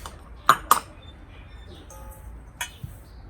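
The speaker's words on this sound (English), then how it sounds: "And now I nicely stir them all together." A utensil clinks against a bowl a few times as bath bomb ingredients are stirred together, a couple of sharp chinks early on, then a quieter pause and another light clink.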